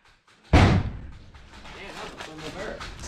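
An airsoft grenade goes off inside a room during a milsim game, a sudden loud bang followed by a rumbling, echoing decay under excited voices and movement.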